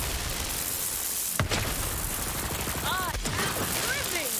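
Shooting in the looter-shooter game Borderlands 3: two sharp gunshot cracks stand out about two seconds apart over a busy, noisy background, with a few short chirping electronic effects trailing after the second.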